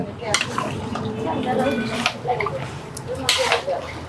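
Beef kala bhuna stirred in oil in a large pot at a roadside food stall: repeated metal clanks and scrapes of a spoon against the pot over a background sizzle, with people talking nearby.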